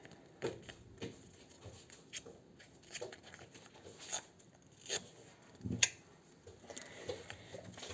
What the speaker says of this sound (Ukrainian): Давайте буду розпаковувати ось цей пакетик.